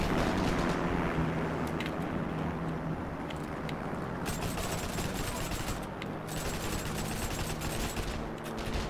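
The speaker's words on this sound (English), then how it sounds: "See the M3 grease gun!" M3 Grease Gun firing in the World War II shooter game Heroes & Generals: sustained, dense automatic gunfire with overlapping bursts and distant battle noise, steady and loud throughout.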